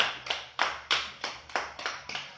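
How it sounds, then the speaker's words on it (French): A few people clap together after a home running workout, a short burst of about eight sharp, evenly spaced claps, close and fairly quiet, with no talking over them. "Et on s'applaudit."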